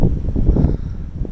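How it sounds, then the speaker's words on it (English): Steady wind buffeting the microphone on a mountain section of the Appalachian Trail, a dense low rumble that swells and dips without pause. "it's kind of windy here"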